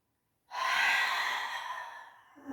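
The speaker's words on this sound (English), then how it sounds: "Inhale, exhale." Slow, deep breath during a gentle morning hatha yoga practice, a single long airy exhale that fades gradually, close and fairly soft, with no talking over it.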